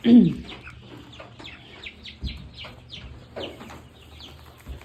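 Young meat bird chicks cluck and peep in a steady busy chorus of short repeated calls close by, eager for feed, with a brief louder burst at the start and low background rumble.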